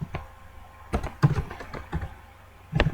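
Typing on a computer keyboard while entering text in Photoshop, a few separated clusters of quick, close key clicks with pauses between them and no talking.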